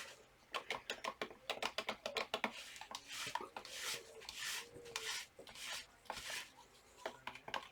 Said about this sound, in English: Always scrape your sides.